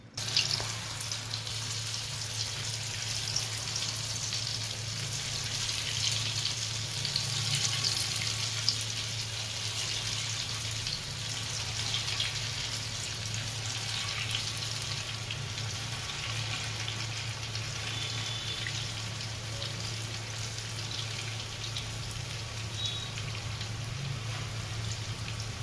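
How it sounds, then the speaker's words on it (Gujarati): Dalvada, Gujarati lentil fritters, deep-fry in medium-hot oil with a steady, even sizzle and bubbling that carries on without a break and with no voices over it. "મીડિયમ તેલ રાખીને દાળવડાને તળી નાખીએ."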